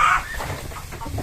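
Hens cluck softly in a short burst, a few close, throaty calls over faint farmyard background noise.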